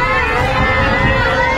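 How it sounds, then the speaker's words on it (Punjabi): A crowd of passengers raises a Sikh jaikara chant aboard a bus, a dense, loud mass of voices sustained throughout over steady vehicle rumble. "ਜੈਕਾਰਾ ਵੀ ਲੱਗ ਰਿਹਾ, ਸੁਣੋ ਜਰਾ।"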